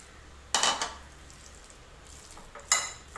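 Raw chicken for chapli kabab drops into a bowl with spices in two short, close bursts of wet shuffling and clinking, about two seconds apart, with quiet room tone between.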